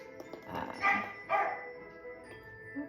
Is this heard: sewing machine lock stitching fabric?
no